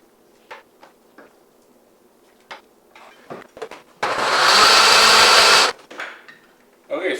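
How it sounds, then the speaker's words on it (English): A blender purees cooked vegetable soup in one loud, steady burst lasting under two seconds, framed by quiet clinks and kitchen handling sounds before and after. "now it's time to put it through the blender"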